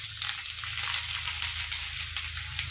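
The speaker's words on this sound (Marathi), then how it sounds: "आता मी जिरे आणि लसूण फोडणी देणार आहे" Cumin seeds and garlic tempering in hot oil for a simple home-style vegetable dish: a steady loud crackling sizzle with busy popping throughout, close up, no voices.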